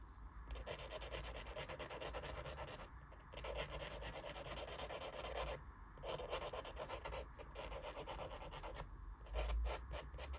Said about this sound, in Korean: 사포 이용하면 이렇게 팔자 그리기 하듯이 팔자 그리면서 해주시면 더 잘 돼요